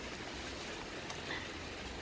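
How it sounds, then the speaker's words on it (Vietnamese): Rain falls steadily on a garden of flowering shrubs in the Mekong Delta countryside, an even hiss of drops with no voices, faint and continuous throughout. "Bây giờ là trời đang mưa đó các bạn ơi."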